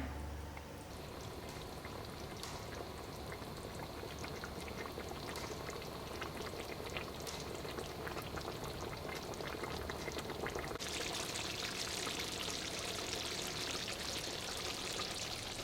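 Chicken curry gravy bubbling and thickening in a pot, a dense continuous simmering hiss with fine popping bubbles that grows brighter toward the end, with no voices.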